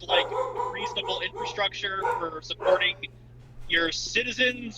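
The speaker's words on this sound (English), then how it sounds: "Sorry about the dog." A dog yips and barks in the background, short excited bursts mixed with whimpers, while a person keeps talking over it.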